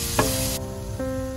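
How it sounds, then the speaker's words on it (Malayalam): Tomato and onion sizzle steadily in a hot pan while being sautéed for masala nombu kanji, with a faint stirring scrape and no talking. "നമുക്ക് തക്കാളിയും കൂടെ ഇട്ട് നന്നായിട്ടൊന്ന് വഴറ്റിയെടുക്കാം"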